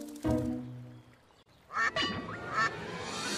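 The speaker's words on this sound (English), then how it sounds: "Here comes a duck!" A duck quacks in three loud, close bursts spaced about a second apart, with quieter rustling and background noise between calls and no talking.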